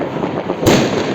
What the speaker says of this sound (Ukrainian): десь там, короче, салютують, десь за стороною